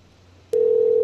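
A telephone dial tone heard while placing a call to a cell phone: half a second of low hum, then a steady, loud single tone that holds to the end.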